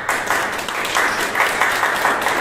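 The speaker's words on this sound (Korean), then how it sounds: "우리 목사를 따라서 하나님께 감사의 박수 한번 드리겠습니다." A church congregation claps together in thanks to God, a steady crackle of many hands at moderate loudness, with no voices over it.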